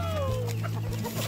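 A rooster on a rural Bulgarian smallholding gives a short burst of close, loud clucks and throaty calls, with no talking.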